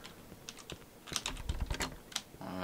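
A switch in the Cry of Fear subway area gives off a run of quick sharp clicks, with a tonal beeping rising near the end, fairly close and quiet, no voices.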